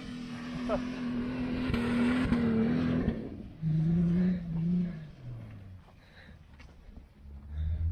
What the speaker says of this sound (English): That poor engine, we wrap it out all the time.